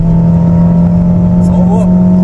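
A Renault Clio 2 RS 172hp engine holds a strong, steady drone from inside the car, rising slightly toward the end as the launch begins.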